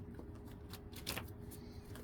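A deck of orange-backed cards riffles and slaps through a quick shuffle, a faint series of soft flutters and taps with a brief busier burst midway.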